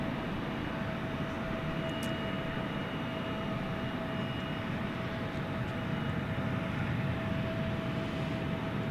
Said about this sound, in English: here comes the DHL Aerologic